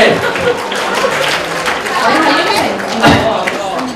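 Wedding guests clap in a steady, dense burst of applause mixed with crowd chatter, a lively banquet hall sound that continues throughout, with voices talking over it.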